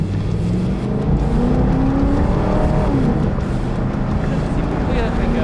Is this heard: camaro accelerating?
yes